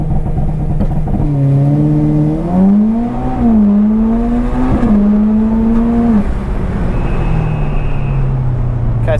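A turbocharged car on a launch-control start, its engine droning loudly and rising through revs, bouncing against the rev limiter with a wavering held pitch before dropping off; close and loud, no talking.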